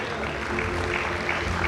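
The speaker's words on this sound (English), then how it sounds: "A huge round of applause." Steady applause from an audience at a college convocation ceremony, moderate and continuous, with a crowd murmuring beneath it.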